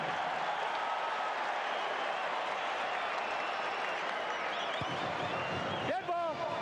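Crowd noise fills a college football stadium at a 1999 Missouri vs Colorado game as a constant, loud roar. Faint whistle-like tones sit within it, and a voice comes through near the end.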